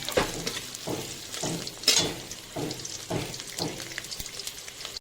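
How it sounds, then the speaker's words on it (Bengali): Grated coconut frying in a pan, stirred with a steady rhythm of scraping strokes over a soft, continuous sizzle, close and moderately loud. "নারকেলটা ভেজে দেবো"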